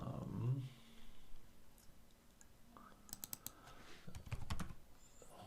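Computer keyboard typing code in an Android app tutorial, with a burst of quick close key clicks in the second half after quieter scattered taps, fairly soft overall.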